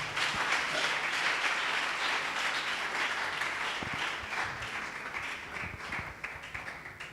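A congregation at a church service claps and applauds loudly and continuously for several seconds, the dense clapping tapering slightly toward the end.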